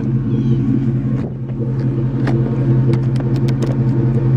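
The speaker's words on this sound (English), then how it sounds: "Exhaust rev." A pony car's exhaust with aftermarket Flowmaster mufflers rumbling near and loud, a steady deep idle with a slight dip and swell as it is revved.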